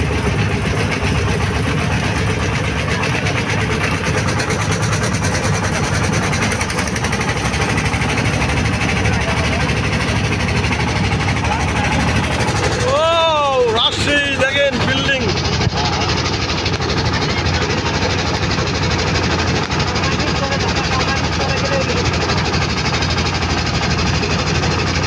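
A boat's engine drones steadily on the Padma river near Rajshahi, a constant mid-pitched chugging running the whole time, with a brief burst of other sound midway.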